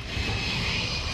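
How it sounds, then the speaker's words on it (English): Enemy bomb drone in a video game, a steady droning aircraft engine hum passing overhead, loud and continuous with no voices. "Enemy bomb drone is in the area."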